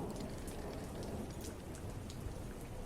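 Steady rain falls in a dense, continuous hiss with scattered droplet taps, forming an even background wash at moderate loudness with no voices.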